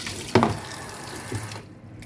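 Tap water runs into a kitchen sink while food soaked to remove salt is rinsed, giving a steady splash with a brief louder gush near the start before the flow cuts off.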